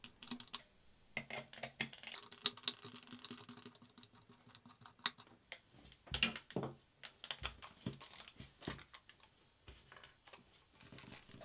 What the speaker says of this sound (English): Start by unscrewing and removing the two game bit screws at the top of the Rumble Pack.